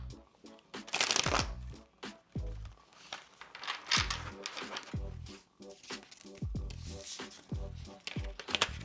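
A deck of cards riffled and shuffled several times, crisp fluttering bursts with soft taps between, close and clear.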